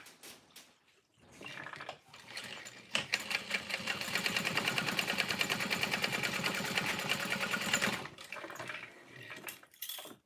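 A sewing machine stitches a Swoon Harriet bag in one continuous, rapid, even run of about five seconds, with softer handling noises before and after.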